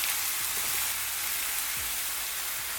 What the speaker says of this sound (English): we dropped our onions in and we're starting to cook them